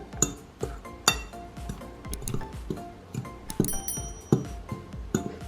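Donut dough ingredients with grated nutmeg get mixed in a bowl, making rapid, uneven clinks and taps of a utensil against the bowl, close and distinct, with short scraping swishes between strikes.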